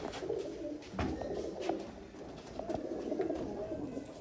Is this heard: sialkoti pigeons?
yes